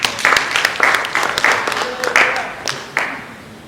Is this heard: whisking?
no